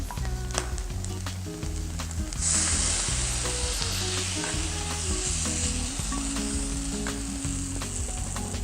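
Chickpea flour tortilla batter with chestnuts sizzles in a pan over lowered heat, a steady close frying hiss that swells as the batter hits the hot surface, with faint music playing underneath.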